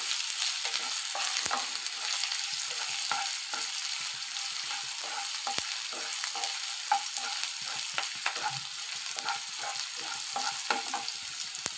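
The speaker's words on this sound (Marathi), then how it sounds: "त्यामध्ये आता घालून घेणार आहे बारीक चिरलेला कांदा" Sliced onion stir-frying in hot oil for Schezwan noodles, a steady bright sizzle with frequent clicks and scrapes of stirring, close and continuous with no talking.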